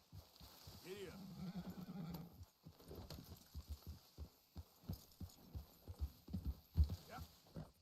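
A horse clip-clops at a steady trot and gallop in Red Dead Redemption 2, with a neigh and a rider's voice early on, the hoofbeats rhythmic and moderately close.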